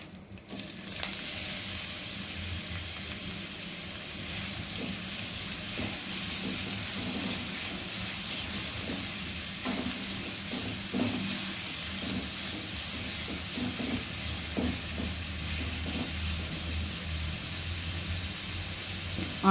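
Onions and curry leaves frying in oil for a bitter gourd and onion curry: a steady, close hiss and sizzle that runs the whole time, with occasional light stirring clicks and pops.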